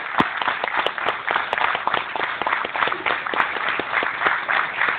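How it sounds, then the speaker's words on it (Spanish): Dense applause from a crowd at a tribute ceremony, many hands clapping at once in a steady, loud stream with a few sharper claps standing out. "quiero pedir un fuerte aplauso para su esposa"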